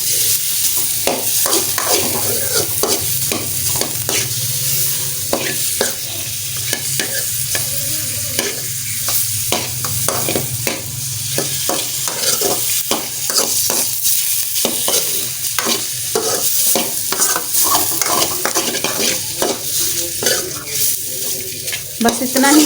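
Tinda gosht is stirred in a kadhai with ghee, giving rapid, loud, repeated spoon scrapes over a steady sizzle for over twenty seconds, with light voices now and then.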